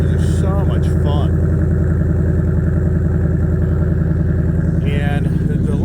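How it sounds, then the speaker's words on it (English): A truck engine running steadily and loudly, with a rough mechanical rumble and clatter throughout, briefly revving at moments. "the first thing we got to do is get the race truck started here"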